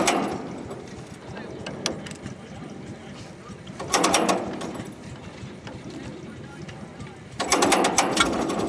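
A 1932 Caterpillar Model Ten dozer engine cranks over in rapid mechanical chugging, with two louder bursts of cranking effort between quieter clattering stretches, heard close up.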